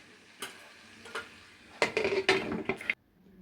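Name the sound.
dishing out aloo palak curry from the pan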